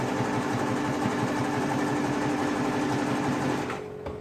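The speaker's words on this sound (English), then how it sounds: "just top stitch this right now" A sewing machine top-stitches a seam on a boy's tank top, running in a steady fast whirring drone close by before stopping near the end.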